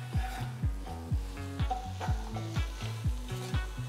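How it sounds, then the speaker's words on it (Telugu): Spice powders, turmeric, salt, chili, coriander and cumin, are stirred into a frying aloo gobi curry in a pan, with steady sizzling broken by rhythmic scraping strokes about twice a second, close and fairly loud, with music-like tones underneath and no talk. "2 టీ స్పూన్ల జీలకర్ర పొడి వేసి అంత బాగా కలపాలి"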